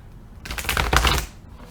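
A deck of tarot cards is riffled in one quick burst of rapid, close, crisp flutter that lasts about a second, with nothing else heard around it.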